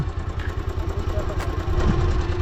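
A motorcycle engine idles steadily close by in an outdoor mountain setting, a low, even rumble that grows slightly louder toward the end, with no speech.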